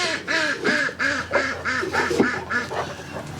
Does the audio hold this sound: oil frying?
no